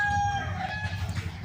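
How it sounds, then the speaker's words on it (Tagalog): Chickens and roosters crow and cluck close by in a noisy rural yard backed by trees, with a rooster's call ringing out over scattered clucks and no talking. "maingay talaga dito dahil maraming manok at mga ibor"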